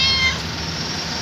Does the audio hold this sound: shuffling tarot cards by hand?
no